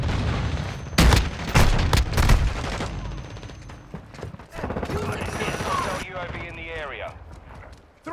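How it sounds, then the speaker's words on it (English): A stun grenade goes off in Call of Duty amid gunfire: sharp bursts and bangs come first, then a shouting voice over a ringing, muffled aftermath. "Stun grenade out!"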